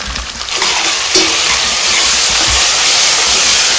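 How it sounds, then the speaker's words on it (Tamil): Ginger garlic paste, green chilli and mint sauté in a pan over a medium flame, giving a steady, loud sizzling hiss with a few scraping stirs and no speech. "மீடியம் ஃப்ளேம் வச்சு நல்லா வதக்கி விட்டுக்கலாம்."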